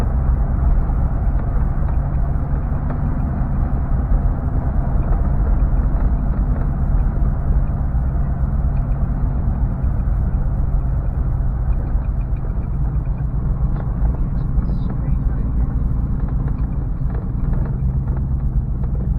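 A K5 Blazer with a cheap custom exhaust drives steadily, its deep low rumble droning evenly and loudly without a break, with some wind noise on the microphone.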